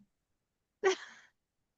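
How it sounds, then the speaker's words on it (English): A single drawn-out yawn from a tired person in the morning, breathy and voiced, swelling quickly and then tapering off over about half a second, close and alone in quiet surroundings. "I can't quit yawning this morning"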